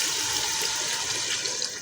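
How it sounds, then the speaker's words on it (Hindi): Water from a glass poured into a cooking pot of turnip and potato curry on the stove, a steady rushing, splashing pour throughout, close and fairly loud, with no talk over it. "1 गिलास हमने इसके अंदर पानी का ऐड कर दिया"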